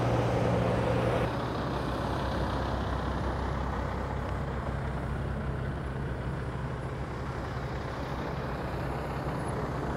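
A big blue truck rolls past on a road, its engine a steady loud rumble that holds for several seconds, with no talking over it.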